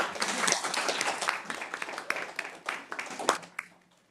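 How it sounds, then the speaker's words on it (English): Applause from the audience at a New York City Housing Authority board meeting, a moderate patter of clapping that gradually thins out and fades over about four seconds. "I'd like to lead a round of applause for all of you."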